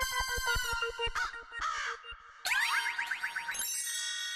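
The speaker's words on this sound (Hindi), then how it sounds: "लीजिए, कौवे तो आ गए" Two palace crows caw loudly and close by in a run of harsh, ringing calls, with short pauses between bursts and no talking over them.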